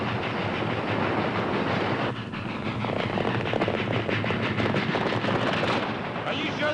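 Steam train on its way to Dodge City, running loud and close with a dense, continuous rumble and rapid chuffing clatter that grows busier as it gathers pace.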